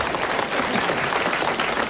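A studio audience at a radio show's tenth-anniversary taping applauds, a thick continuous burst of many clapping hands heard briefly and up close.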